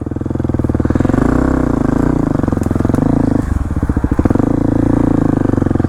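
Kawasaki KLX300 dirt bike engine idling and held in second gear near jumps, a loud, close, steady thumping putter with a brief throttle blip in the middle and no talk.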